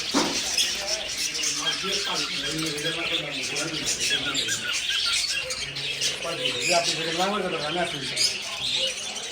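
Many birds, including cockatiels, squawk and chirp loudly in a pet bird shop, a dense, continuous chorus of harsh calls with a voice talking over it.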